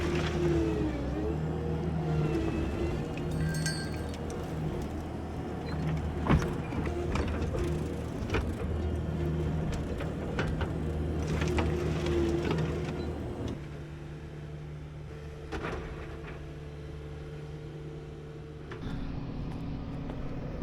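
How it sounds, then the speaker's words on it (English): A skid loader smooths out a fill dirt pile, its engine droning steadily with shifting pitch, punctuated by clanks and scraping knocks from the bucket, and the motor changes tone near the end. "I'm going to spend a little bit of time right now with the skid loader, smooth out this fill dirt pile and the topsoil pile."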